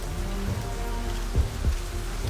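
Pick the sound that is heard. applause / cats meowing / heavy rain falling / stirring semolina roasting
heavy rain falling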